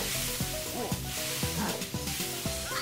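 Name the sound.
steak sizzling in Super Mario Party frying minigame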